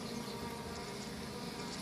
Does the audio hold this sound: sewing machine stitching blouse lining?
no